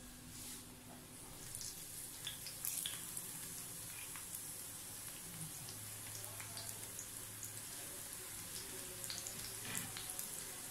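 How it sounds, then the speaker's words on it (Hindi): Onions sizzling in hot oil in a home kitchen pan, a soft, steady crackle and hiss with scattered pops throughout, heard faint and close with no talking. "अब हम इसमें प्याज डालेंगे।"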